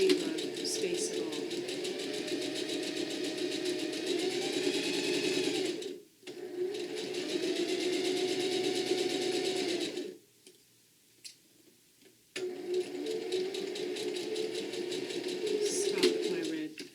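A sewing machine stitches the edge of a fabric bag, running in long steady whirring stretches broken by two short pauses.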